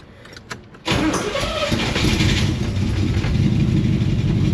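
A 1977 Corvette engine, still warm, cranks briefly and catches, then settles into a loud, steady low idle close by, with no speech.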